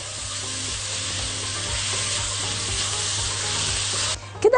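Coarse minced meat and softened onion sizzle loudly in ghee in a pan, a steady close frying hiss with rhythmic scraping stirs, ending in a few knocks.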